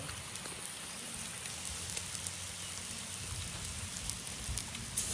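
Steady rain patters down continuously, a dense even hiss of drops on a surface with no voices.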